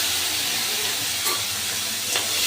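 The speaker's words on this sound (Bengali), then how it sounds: "চিংড়ি মাছগুলো ভেজে নেব।" Prawns rubbed with salt and turmeric frying in hot oil in a village Bengali kitchen, a dense, loud, steady hiss of bubbling oil with a couple of brief sharper spits, no talking.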